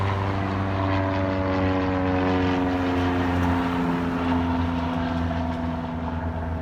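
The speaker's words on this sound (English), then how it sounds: "I'm glad we've got some takeoffs for you." A propeller airplane takes off at Zamperini Field in Torrance, California, its engine droning loud and steady with a low, even buzz that holds throughout and carries no talk.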